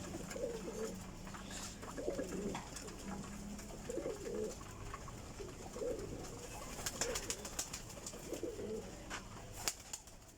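Pigeons, Rampuri and Kasuri breeds kept as pairs of males and females, coo in repeated soft, throaty phrases at close range, several rounds spaced across the stretch, with light rustling and clicks.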